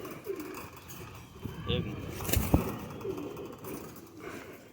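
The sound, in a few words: Teddy Sialkoti pigeons cooing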